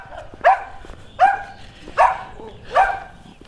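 Dog barking on a walk, four loud, evenly spaced barks about three-quarters of a second apart, close by over a low outdoor background.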